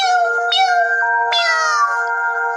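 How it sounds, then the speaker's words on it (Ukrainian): Two plaintive, high-pitched cat meows, one after another, close and clear over a steady tonal background. "Аж тут Дівчатко почуло над собою жалібне мяу мяу"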